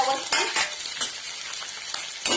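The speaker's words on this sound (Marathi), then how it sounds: "कढीपत्ता घालते, मिरची घालते, शेंगदाणे घालते आणि कांदा घालते. हे फ्राय करून घ्यायचं" Curry leaves, green chilli, peanuts and onion fry in a tempering of mustard and cumin seeds for vegetable upma, a bright crackling sizzle with a few sharp spoon scrapes against the pan, close and without talk.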